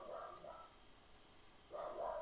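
Pet dog named Tucker barking indoors, two short bursts of barks near the start and another louder burst near the end, moderately close, with no talk over them.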